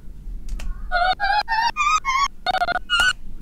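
A short pitch-edited melody plays back in Soundtrap as a string of clear, evenly spaced synthetic tones, about eight notes stepping up and down in pitch, loud and alone.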